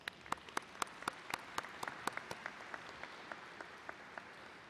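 An audience at a college commencement ceremony claps for the trustees, sparse and faint. Individual claps land irregularly and thin out over a few seconds.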